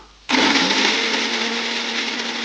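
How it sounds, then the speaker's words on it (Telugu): A mixer grinder grinding a fine paste for vegetable korma switches on abruptly and runs with a loud, steady, high-pitched whir that holds until the end. "అవి మిక్సీ పట్టుకుందాం ఫైన్ పేస్ట్గా"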